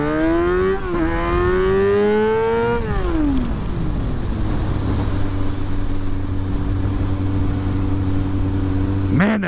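A stunt motorcycle revs hard through the gears for stoppie training, its loud, close engine pitch climbing, dropping at each shift, then holding a steady high drone into third gear.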